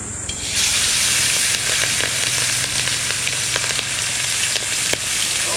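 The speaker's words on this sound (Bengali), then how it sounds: "মাছগুলোকে সুন্দরভাবে ভেজে নেবো।" Hilsa fish frying in hot oil in a village kitchen: loud, dense, continuous sizzle that bursts in right after a quiet start, with scattered crackles and pops and no talking.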